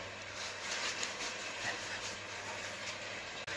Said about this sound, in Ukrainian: беремо щітку, якусь таку жорстку, і добряче підмітаємо поверхню, щоб вимести всю оту пилюку